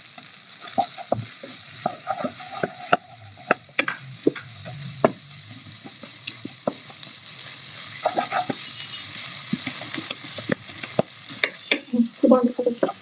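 Cashews, raisins and green chillies frying in hot oil, a soft ongoing sizzle broken by scattered clicks and scrapes of stirring, close and moderately quiet.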